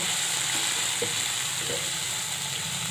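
Boiled banana flower goes into a pan of cooked-down spices for a vegetarian curry, producing a soft, even frying hiss with a couple of faint stirring touches and no voices.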